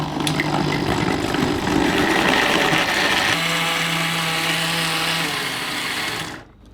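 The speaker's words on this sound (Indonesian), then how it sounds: "Tinggal kita blender." An electric blender grinds chillies, garlic and cooking oil with a loud, steady whirring roar that shifts pitch midway as the mixture smooths out, then cuts off abruptly at the end.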